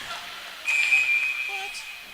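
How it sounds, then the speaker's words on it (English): A referee's whistle at a high school varsity ice hockey preseason game blows one sustained shrill tone for about a second and a half over arena crowd noise and a commentator's voice. "And as he passes to Marty McCauley, a whistle for the net off its posts."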